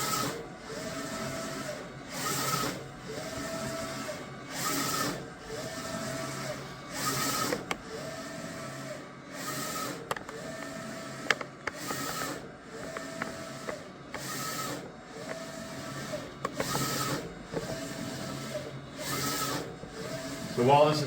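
A Mimaki printer runs through repeated printing passes with regular whirring carriage sweeps about every two and a half seconds, mechanical clicks between them, and a faint voice now and then under the machine.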